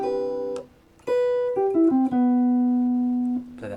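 Guitar arpeggio study in a jazz rhythm, a quarter note then a triplet then another quarter note, clear single plucked notes stepping down in pitch and ending on a long sustained tone, alone with no talk.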